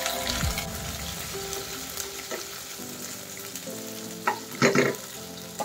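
Garlic and tomato sautéing in a pan for crab and cabbage, with a steady hissing sizzle, a few scraping stirs and louder spattering bursts toward the end, close and with no talk.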